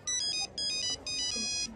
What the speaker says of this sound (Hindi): अमजद का फोन है।